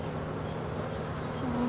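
Honey bees buzzing steadily as they are added to an empty beehive, a close, continuous drone of many wings with one louder bee briefly rising above the swarm.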